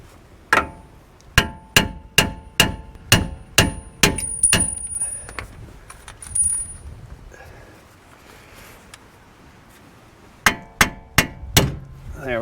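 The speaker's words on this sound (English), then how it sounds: "So a few whacks on the bottom." A hammer strikes the lower ball joint on the steering knuckle of a 2014-2018 Chevy Silverado truck, a run of eight sharp metallic clangs with a ringing tone, then a quiet gap and four more strikes near the end.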